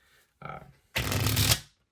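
Playing cards are shuffled on a table for a thorough mix, a short riffle followed by a louder, dense rush of cards cascading together for about a second, close and alone.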